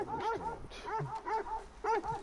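Dog barks and yips from a PS4 video game, a string of short harmonic barks in irregular bursts heard close up, with some speech-like sound mixed in.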